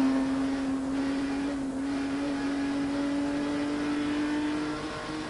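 A NASCAR Busch Grand National race car at Rockingham in 1990, heard from the in-car camera: a steady, loud engine drone holds a near-constant pitch, easing slightly at the end.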